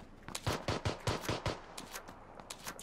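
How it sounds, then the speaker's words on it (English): Rapid bursts of automatic gunfire in a PUBG match, roughly six sharp shots in a steady rhythm and then a few fainter, more distant ones, with no talking. "We're shooting him out of the air."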